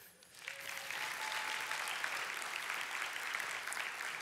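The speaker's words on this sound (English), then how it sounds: "they're gonna give you a big round of applause." Morning audience at a talk giving a big round of applause, rising quickly into dense, steady clapping that fills the room and holds strongly to the end.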